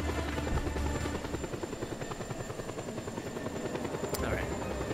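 A helicopter in the video game Just Cause 2 flies with a steady, loud rotor chop and engine drone that continues throughout, with a brief sharp sound near the end.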